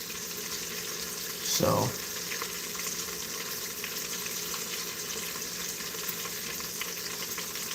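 A pot roast sautés in an Instant Pot with a constant soft sizzle and hiss. One brief louder clatter breaks in near the start, and a single short spoken word comes over it.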